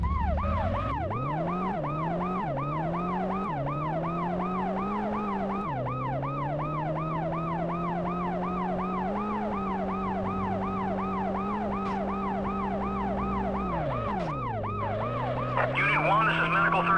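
Wailing ambulance siren from the PS1 game World's Scariest Police Chases sweeps up and down in steady rapid cycles over a continuous engine drone whose pitch rises and falls, loud and unbroken throughout with no talk.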